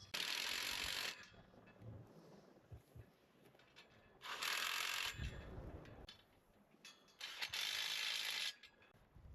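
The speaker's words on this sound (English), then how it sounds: "Go ahead, Jeff, just come tighten down those nuts" Ratchet wrench tightening nuts on gate hinges mounted to a metal T-post, three bursts of rapid close clicking separated by quiet pauses with faint handling knocks.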